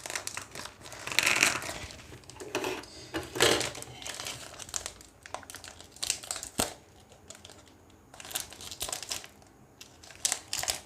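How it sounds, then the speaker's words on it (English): Blunt scissors slowly cutting open the plastic packaging of an Apple Smart Slim Trifold iPad case, with close crinkling and crackling of the wrapping in bursts and pauses, no talk. "This scissor was not sharp, I think. That's why it's taking time to open it."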